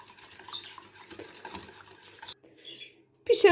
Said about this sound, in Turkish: Topaklanmaması için sürekli karıştırarak pişirmemiz lazım.